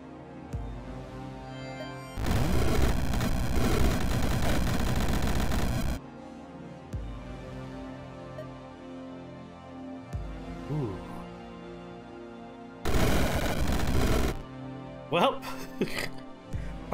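Loud bursts of explosions in the video game Rift Wizard, two broad roaring blasts of several seconds each with a few shorter bangs near the end, between quieter game music and effects.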